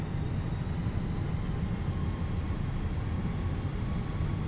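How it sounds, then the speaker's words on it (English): Engines of a Fenix A320 airliner in a flight simulator game drone steadily during a rolling takeoff from Burbank, a dense, continuous low roar with a faint high whine on top, with no voices. "let's do a rolling takeoff out of here"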